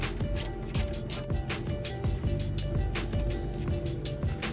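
Ratchet wrench with a 12mm socket and extension turning bolts on a Mitsubishi 3000GT VR4 during rear primary O2 sensor replacement; steady rapid clicking of the pawl in repeated bursts, close and fairly loud, with no talk.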